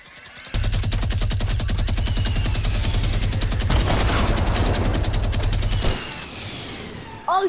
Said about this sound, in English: Oh, wait, I got minigun.